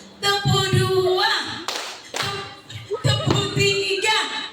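A group of women clap hands together in a counted rhythm while a woman calls out the counts; sharp broadband claps come in bursts between the spoken counting, close and fairly loud.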